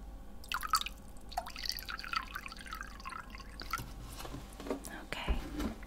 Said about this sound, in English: just gonna pour some water.